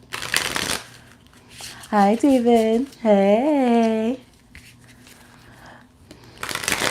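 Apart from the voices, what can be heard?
shuffling a Dust II Onyx tarot card deck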